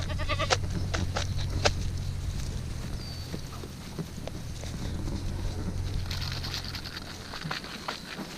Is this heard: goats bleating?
yes